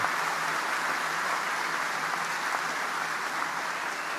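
A large crowd applauds the shipbuilders at the USS Gerald R. Ford commissioning ceremony, a dense, even wash of clapping sustained throughout, broad and somewhat distant.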